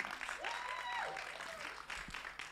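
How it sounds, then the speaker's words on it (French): Audience clapping at a women's leadership pageant challenge in French, steady and moderate throughout, with a whistle-like tone and faint voices mixed in. "On va l'applaudir"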